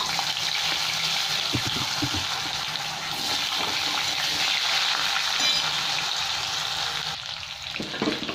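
Cut potatoes go into hot fish-frying oil seasoned with black cumin and bay leaf and sizzle loudly and steadily, with scraping stirs and a brief clatter near the start. The frying hiss carries on throughout with nobody talking.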